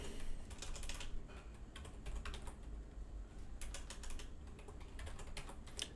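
Quick, uneven clicking of keys on a computer keyboard, close and fairly quiet, continuing throughout without talk, as a Kali Linux command is typed.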